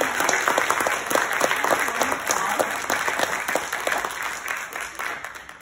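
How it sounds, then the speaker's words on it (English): An audience claps after a seminar presentation, a lively round of many hands with distinct claps cutting through, a few voices briefly heard within it, gradually thinning toward the end. "let's give another round of applause."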